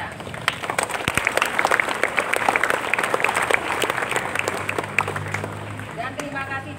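A crowd at an Indonesian National Awakening Day flag ceremony gives sustained applause for the ceremony officers, with dense clapping that tails off toward the end while a voice speaks over it.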